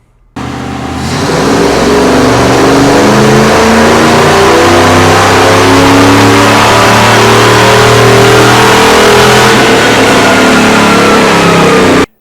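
A 1989 Camaro engine pulls at wide open throttle on a dyno, a loud sustained roar climbing steadily in pitch for about ten seconds before cutting off abruptly.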